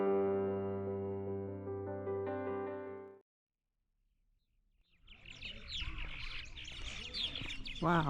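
Birds chirping and twittering in a busy, overlapping chorus that follows a steady droning tone and a brief pause.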